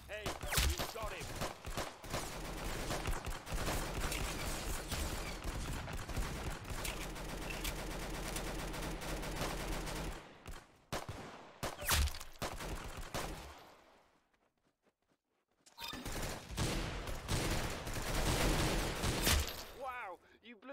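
Sustained rapid gunfire fills a first-person shooter match in Arsenal, with dense automatic bursts and individual shots running almost continuously, then a short quiet gap before more firing resumes, with voices talking over it.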